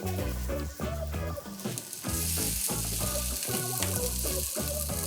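Vegetarian cakes fry in a pan with a steady sizzle that swells louder partway through, partly masked by prominent background music playing over it.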